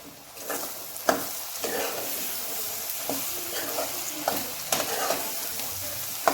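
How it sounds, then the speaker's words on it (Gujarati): Boiled egg pieces being stirred into a sizzling curry masala, a steady fry hiss with repeated scraping and tapping strokes of a spoon at an uneven pace, close and fairly soft. "આ ઈંડાનું કટિંગ હવે આમ મિક્સ કરી નાખશું."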